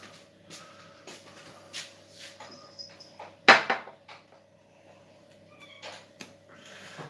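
A cat gives a short meow amid scattered knocks, clinks and small kitchen noises at a table. A low background hum runs throughout.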